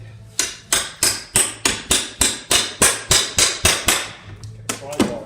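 Hammer blows knock a mantel off a wall, about a dozen loud, evenly spaced bangs roughly every half second, ending in a couple of irregular hits.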